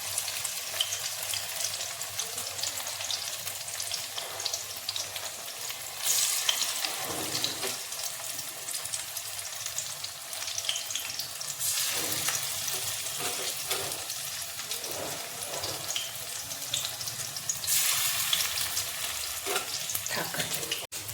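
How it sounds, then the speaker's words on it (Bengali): Coriander-leaf fritters sizzle steadily in hot oil in a large wok, a continuous close frying hiss broken by occasional bursts of stirring and clatter, with no talking. "ধনেপাতা সুন্দর সুন্দর বড়া ভাজা হয়ে গেছে"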